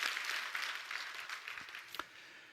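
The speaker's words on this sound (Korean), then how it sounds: "우리 박수를 한번 축복합시다." Congregation applause at a Korean church's Thanksgiving Sunday worship service: a steady, dense wash of many hands clapping, fairly soft and even, with a couple of sharper claps near the end and no talk over it.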